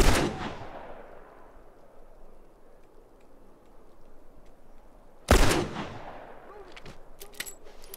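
Two loud gunshots ring out in The Last of Us video game, several seconds apart, each with a long reverberating tail, and faint clicks follow the second.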